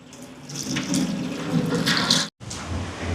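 Water runs steadily from a tap into a cooking pot in a home kitchen, a close, continuous rushing pour with one very brief break near the end.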